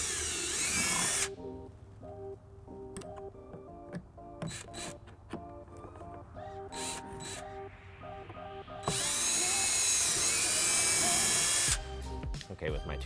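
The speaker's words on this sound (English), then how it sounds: "placing it where I want on the fascia and drilling a 13/64 hole" A power drill boring a 13/64 hole through the plastic fascia of a 2002 Lexus RX300, in two loud, sustained whining bursts with quieter handling and clicks in between.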